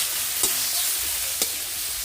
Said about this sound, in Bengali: শাক ভাজার সময় ভালো করে নেড়ে চেড়ে দিতে হবে তাতে যেন নিচে ধরে না যায়